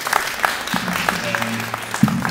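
Town hall meeting audience in Richmond's 7th District giving scattered applause, moderate clapping from a room of people with some voices murmuring underneath.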